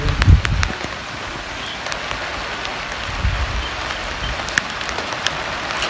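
Heavy rain pours down steadily around an outdoor cooking spot where onions are being browned for achari pulao, a constant hiss of drops on surfaces with a few sharper patters and low rumbles, moderately loud and continuous.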